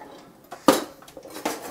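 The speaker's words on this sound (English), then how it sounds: "I'm just going to whisk this together" A few sharp clinks and scrapes of a whisk against a bowl while mixing orange juice into a citrus glaze, brief and close with short gaps between strokes.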